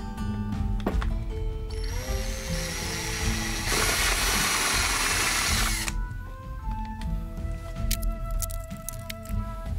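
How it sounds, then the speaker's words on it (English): A power drill bores holes into a plastic soda bottle for a hanging tomato planter, its motor whining up loud and steady for a few seconds before spinning down, with lighter mechanical rattles around it. "I'm going to drill a hole on either side and thread some wire between the two"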